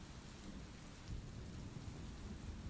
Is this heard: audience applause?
no